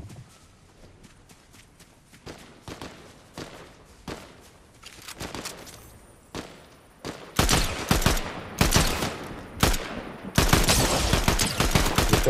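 Rapid gunshots and bursts of automatic fire from a Fortnite match, sparse and quieter at first, then growing louder and denser with clustered volleys over the last few seconds.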